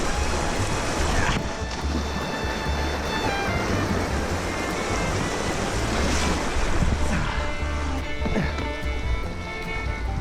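Steady rushing and splashing of a cold river as someone wades across it, the flowing water loud and continuous with wind buffeting the microphone.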